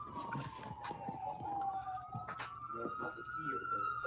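Two ambulance sirens wail on a New York street, their rising and falling tones overlapping loudly and continuously amid traffic noise.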